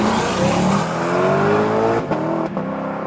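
The naturally aspirated V8 of a Lexus LC500 revs up with a rising, smooth tonal howl, fairly loud and close, then drops away as the revs fall.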